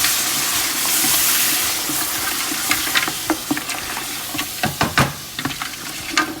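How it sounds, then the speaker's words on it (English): Tomatoes and whipped yogurt go into a sautéing beef pulao pan with darkly fried onions, raising a loud, steady sizzle that eases into wet spatters and stirring knocks; no one talks. "I'm gonna add 2 tomatoes and 1 cup whipped yogurt."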